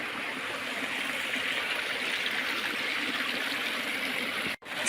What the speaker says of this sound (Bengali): ঝিরির পানির সাউন্ডটা শুনেছেন?